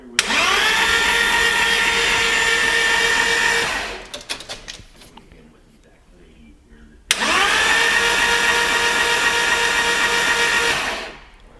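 A Lamborghini twin-turbo engine with its spark plugs removed is spun by the starter to build oil pressure. Two steady, loud mechanical whines run about four seconds each, with a quieter pause between them.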